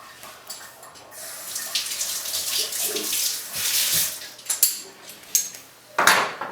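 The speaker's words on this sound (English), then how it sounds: "After this I put it into cold water to cool down the clamp itself." A hot copper clamp goes into cold water, making a continuous splashing, sloshing wash with a few sharper clinks and drips near the end, close and fairly loud.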